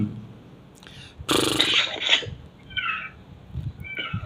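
A young granddaughter imitates a cat, giving one loud, drawn-out mewing cry up close, followed by a few shorter, fainter meow-like calls, with no other talk.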